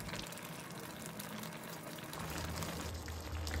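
Shrimp curry with fresh coriander simmers in a pan on a gas stove, giving a soft, steady bubbling hiss that stays faint and even throughout.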